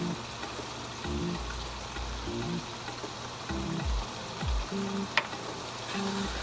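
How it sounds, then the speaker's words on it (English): Peppers and mixed spice being stirred in a cooking pot for a Ghanaian lamb stew, with soft sizzling and intermittent scraping and clinking of the spoon against the pot, fairly quiet. "Give it a good stir."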